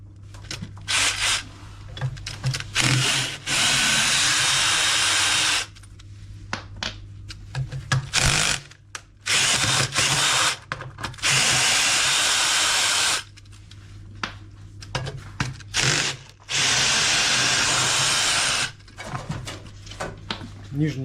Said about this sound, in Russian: Так что мы сейчас открутим винты, болты.